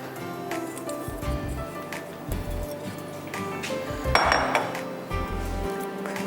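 Custard is moved from a pan into a bowl in a home kitchen, with clinks and scrapes of metal utensils against cookware, one sharper ring partway through, and faint kitchen noise underneath.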